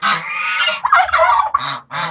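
Geese on a farm honk in a series of loud, nasal calls, several overlapping then two short separate honks at the end, close by with no talk.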